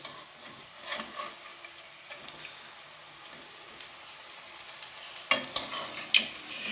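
Piyaju fritters frying in hot oil, a steady soft sizzle with light stirring and scraping clicks that grow louder and sharper toward the end.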